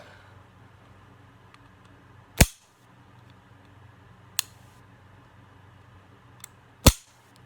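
A Norinco NP22 pistol is dry-fired in double action, giving three sharp, loud metallic snaps a few seconds apart against near silence, with a faint tick between them.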